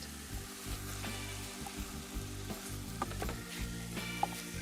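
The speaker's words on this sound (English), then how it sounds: "Need the heat up a bit for the beef because I want it to brown fast." Beef browning fast in a hot pan sizzles in a constant, close hiss, with a few soft stirring scrapes and small crackles over it and no one speaking.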